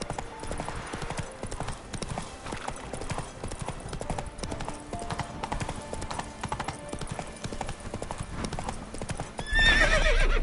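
Roach, a horse in The Witcher 3, trots with a steady, close clip-clop of hooves throughout, and a short whinny or burst of extra noise comes at the very end.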